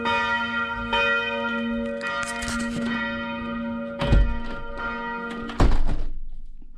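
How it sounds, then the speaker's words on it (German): Church bells ring in a steady, resonant peal heard outdoors along a hiking trail, with sustained overlapping tones and a couple of louder strikes or thunks near the end. "Schön ist das Glockengeläut, aber mich stört es jetzt gerade."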